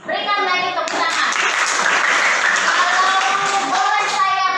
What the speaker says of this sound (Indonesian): Berikan lagi tepuk tangan